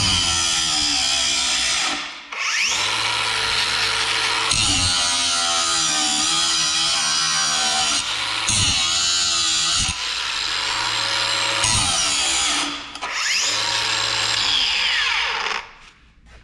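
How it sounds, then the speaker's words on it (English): Bosch GWS18V-13C 18-volt cordless brushless angle grinder with a 4.5-inch disc cutting under load: a loud, continuous high whine that briefly dips and recovers three times as the disc bogs and spins back up, with no talk. "Now we're on to the new 5 to 6 inch GWS18V-13C ankle grinder"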